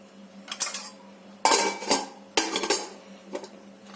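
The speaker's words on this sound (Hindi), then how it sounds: "हमने आधा चम्मच हल्दी ली और ये शहद, इन दोनों को हम जो है मिला" A spoon stirs turmeric and honey in a small bowl, several sharp metallic scrapes and clinks against the sides in uneven bursts, close and clear.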